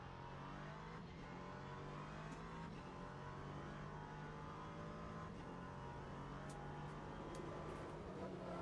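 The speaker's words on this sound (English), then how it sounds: "Let the safety car do some laps." A safety car laps the Bahrain circuit in the racing game Le Mans Ultimate, its engine droning steadily with a constant hum and faint passing swells, with no talk over it.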